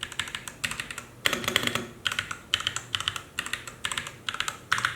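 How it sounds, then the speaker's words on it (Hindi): Typing on a mechanical keyboard fitted with Outemu Red Panda tactile switches: quick bursts of crisp, clacky keystrokes in uneven rhythmic runs with short pauses between, close and clear with no talking. "ये टैक्टाइल स्विचेस हैं लेकिन साइलेंट नहीं है, नॉर्मल लीनियर स्विचेस जितना ही साउंड है लेकिन फील क्लिकी है।"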